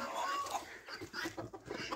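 Chickens on a small homestead cluck softly in a busy, uneven stream of calls amid other barnyard noise, fairly faint and somewhat distant.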